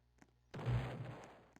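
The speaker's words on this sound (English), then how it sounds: "Oh, the cannon." A cannon fires in the Roblox game Ragdoll Engine: one sudden loud boom that rumbles and slowly fades over about a second, with faint clicks before it.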